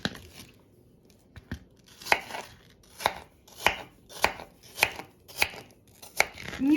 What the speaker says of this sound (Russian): И теперь нам надо порезать их на какие-то вот такие кубички, долечки